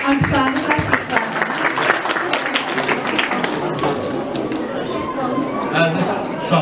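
An audience applauds at a public ceremony, a loud, dense burst of clapping mixed with crowd chatter that thins out toward the end.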